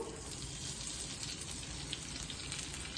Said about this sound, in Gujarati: જે દાણા કાઢેલા હતા મકાઈના એને અંદર સાતળી લઈશું